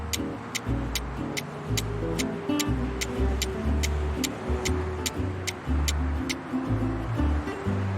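A car drives along a road with a steady low engine rumble and a constant broad road noise, joined by regular high ticking strokes that run through the whole stretch.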